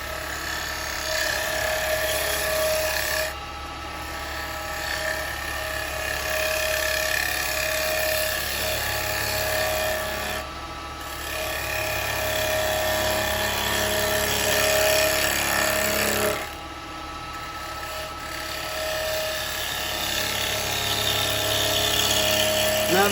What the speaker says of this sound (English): I'm just having a few cuts here, guys, just to see what this tool can do